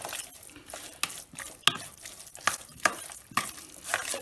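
Kebab meat seasoned with a little thyme is stirred in a pan for Bodrum-style çökertme kebab, making a quick series of soft scraping and clacking strokes over a light, constant sizzle.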